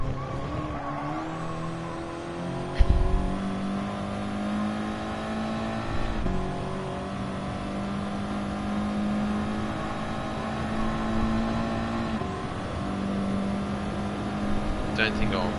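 A Nissan S15 drift car engine revs in Gran Turismo Sport, climbing steadily through the gears with repeated shifts and a brief sharp thump early on, while a person talks over it.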